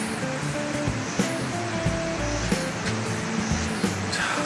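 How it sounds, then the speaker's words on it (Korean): River water flows steadily near a rural guesthouse by Sainam in Danyang, a continuous broadband rush with faint knocks and creaks on top and no talking. "물소리가 정말 잘 들립니다"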